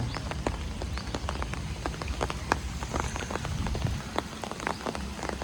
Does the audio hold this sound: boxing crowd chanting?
no